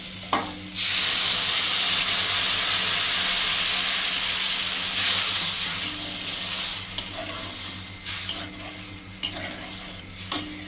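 Water poured into a hot pan of koi fish curry with potato and papaya sets off a loud, close burst of hissing sizzle and steam that gradually settles into softer bubbling with a few utensil clinks.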